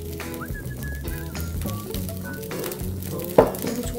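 Rice is stir-fried in sesame oil in a pan over high heat, giving a steady, close sizzle. Whistly tones and clinks sit above it, and a sharp knock lands near the end.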